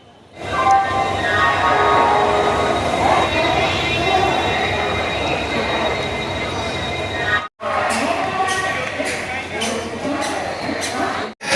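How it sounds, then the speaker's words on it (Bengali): The Bokaro Steel City Express runs at night with a loud, steady rumble, hum and rattle from inside the coach, broken by a brief gap before the clatter of the wheels continues. "18013 বিকেএসসি বা বোকারো স্টিল সিটি এক্সপ্রেস"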